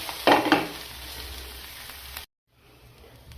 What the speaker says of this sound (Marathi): कांदा भाजताना अर्धा चमचा तेल कांद्यावरती आणि त्याला पण गोल्डन ब्राऊन जोपर्यंत होत नाही ना कांदा तोपर्यंत मीडियम फ्लेमवरती त्याला पण भाजून घ्यायचा